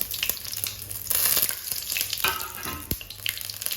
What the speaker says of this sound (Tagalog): Okay, naglalaban po yung mantika.